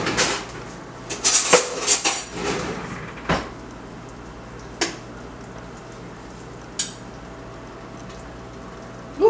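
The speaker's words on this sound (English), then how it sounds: "One piece of potato, one piece of breadfruit. And let me slice." Cooked potato and breadfruit being sliced for a salted codfish gravy dish: a burst of knife-on-plate clatters and scrapes early on, then sparse single clicks and taps spaced out across a mostly quiet stretch.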